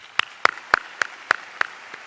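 About seven separate, evenly spaced claps at a city sustainability address, sparse and slow rather than a full ovation, each crisp and fairly close.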